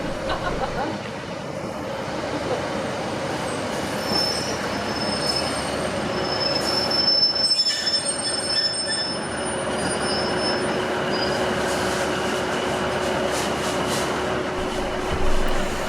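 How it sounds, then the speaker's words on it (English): A departing steam train, Black Five 45212 on the Cumbrian Coast, rumbles steadily along the rails with high metallic wheel squeals, close and continuous, while people murmur in the background. "I take a gamble and only just board the train before it departs."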